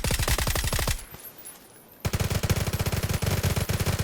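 Two guns unloading in a video game city end-game fight: rapid, loud machine-gun bursts fire in fast rhythmic rattles, break off for about a second into near silence, then resume in another sustained volley.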